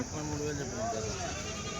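Goats bleat amid the steady murmur of a busy Bakrid goat market in Kadiri, with short calls rising from a dense crowd. People talk and bargain throughout.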